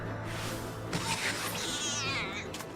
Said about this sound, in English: He meows.